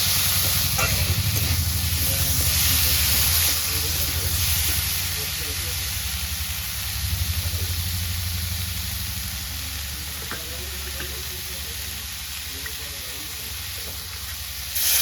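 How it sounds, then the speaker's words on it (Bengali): Water hits a hot pan of fish-and-potato curry, made with small dhela fish, raising a loud, steady sizzling hiss that holds for the whole stretch and eases slightly toward the end. "ভালো করে নেড়ে এবার আমি জল দিয়ে দেবো"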